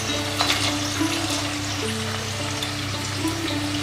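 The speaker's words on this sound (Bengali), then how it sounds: "দিয়ে এবার সব কিছুকে খুব ভালোভাবে একটু ভেজে নেব।" Soaked sabudana with fried peanuts, potato and rock salt sizzles steadily in a hot pan, a continuous close frying crackle with occasional stirring scrapes and no talking.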